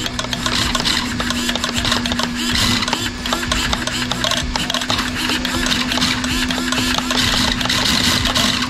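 A small electric motor in a 25kg servo on a Scomadi scooter whirs steadily with a constant hum and mechanical rattling throughout, fairly close and continuous.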